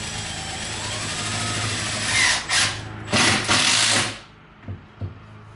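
A power drill drives 1¼ inch screws into a wooden sink cabinet, giving several short loud whirring bursts close by, followed by a couple of faint taps.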